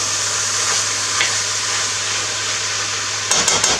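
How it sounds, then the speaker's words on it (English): Two pounds of ground beef fry with onions in a pan, giving a steady hissing sizzle with a low hum beneath it and a few stirring clicks near the end. "now what we're going to do is finish cooking the onions with the ground beef"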